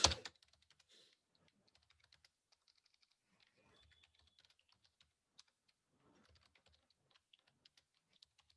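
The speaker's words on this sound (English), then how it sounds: "I'm just typing the address." Sparse, light keyboard clicks scattered across the stretch, quiet and close, with a sharper burst of noise at the very start.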